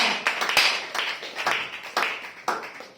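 A church congregation claps together in a steady rhythm, about two sharp claps per second, close and moderately loud, with no voices heard over it.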